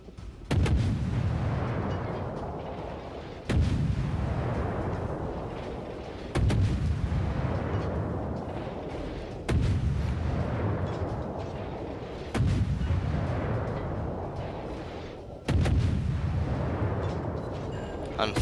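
Heavy destroyer gun salvos from a top-tier warship in a naval combat game, six big booming volleys roughly every three seconds, each with a long rolling decay into the next.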